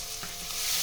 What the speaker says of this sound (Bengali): এবার আমি এর মধ্যে দিয়ে দেবো থেতো করে রাখা রসুন